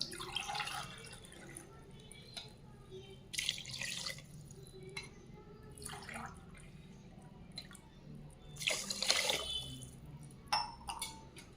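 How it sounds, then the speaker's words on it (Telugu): Water is poured into a pot of tomato rice with rice already in it, in several separate bursts with pauses between, splashing and trickling at close range, with soft clinks in the gaps. "టూ గ్లాసెస్ రైస్కి త్రీ గ్లాసెస్ వాటర్ పోసుకుంటాను"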